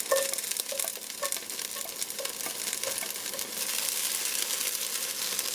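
Chopped onions fry in hot coconut oil in a pre-seasoned cast iron pot, giving a steady, close sizzle with occasional stirring clicks and scrapes throughout.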